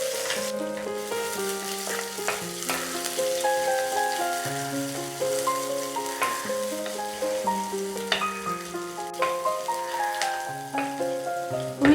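Finely chopped small shallots sauté in a pan for a tomato curd curry, giving a steady, close sizzle that continues throughout, overlaid by melodic background music.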